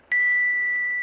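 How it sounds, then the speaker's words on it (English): A small bell tapped once with a rose crystal pendant gives a single clear, bright ring that sustains evenly, close and alone, without fading. "You hold the bell, and I'll tap it with a pendant."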